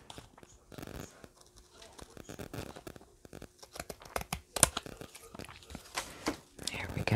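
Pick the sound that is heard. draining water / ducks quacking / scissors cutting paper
scissors cutting paper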